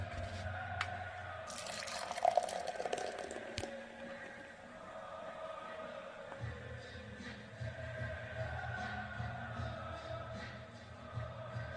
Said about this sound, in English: pouring ale into a glass